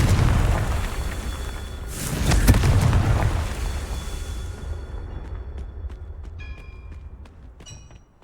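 A Confringo blast spell explodes in a Harry Potter video game: a loud booming burst with crackling debris that swells mid-clip, then decays into scattered faint clicks and ringing tones as the rumble fades.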